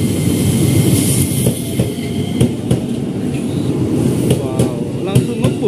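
An electric KRL commuter train pulls out of Jatinegara station with a loud, close rumble, rhythmic clacking wheels over rail joints and brief metallic squeals, while a voice talks over it.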